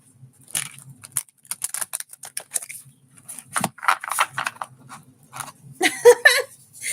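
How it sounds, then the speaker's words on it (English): Oracle cards being shuffled by hand, a series of soft, papery riffles and slaps in irregular bursts, close and fairly quiet with brief pauses between. "Let's do a little shuffling here."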